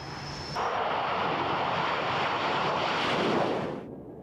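An F-105 fighter-bomber jet roars past, a loud, broad rushing sweep that swells in abruptly, holds steady for about three seconds, then fades out.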